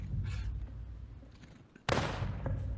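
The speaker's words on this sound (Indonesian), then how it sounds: "Sudah tembak-tembakan." Gunfire in a film scene: heavy rumbling shots and a sudden loud blast near the end, dense and booming like a cinematic firefight, with no voices over it.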